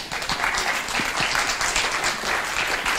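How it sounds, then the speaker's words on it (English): A tech conference audience applauds its panelists: a full, continuous burst of many hands clapping close by, with faint low murmurs beneath, staying level throughout. "please give a round of applause to our panelists"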